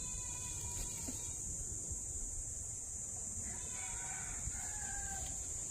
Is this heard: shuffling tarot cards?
no